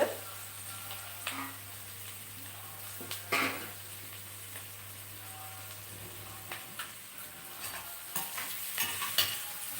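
Curry ingredients fry in a pan for a cauliflower curry, a soft continuous sizzle with occasional stirring scrapes and clinks, fairly quiet and close, with no talking.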